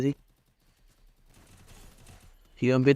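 Quiet, rapid bursts of gunfire in the Free Fire video game, a clustered volley landing between stretches of someone talking.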